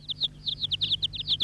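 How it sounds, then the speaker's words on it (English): Baby birds in a nest, animated, chirp in a rapid run of high, bright tweets that overlap and repeat, close and fairly loud, with a low steady hum underneath and no talk. "But the birds only chirped louder"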